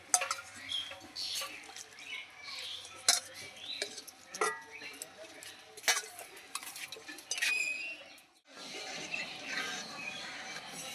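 Raw potatoes go into a pot of water for boiling, with close clattering knocks and clinks of a vessel and utensils, then a quieter steady stretch.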